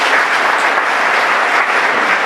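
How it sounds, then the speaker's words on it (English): An audience at a talk applauds in a brief, steady wash of many hands clapping without voices. "Let's clap it up"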